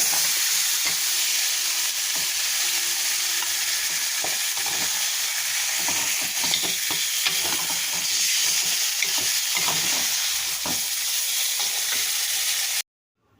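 Chicken pieces frying in a spiced masala for a thin potato chicken curry, giving a steady loud sizzle and hiss with occasional stirring scrapes, unbroken for most of the stretch before cutting off at the end.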